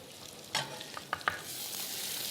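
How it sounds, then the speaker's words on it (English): A steak is laid into a hot pan and sizzles, with a burst of frying hiss followed by a few small clinks and a steady soft crackle continuing alone. "There's a beautiful sizzling here."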